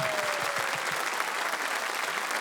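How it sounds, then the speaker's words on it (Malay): Audience at a live music show applauding the band, a dense, continuous wash of clapping from a large crowd that stays loud and steady throughout. "Tepukan untuk band pada malam ini."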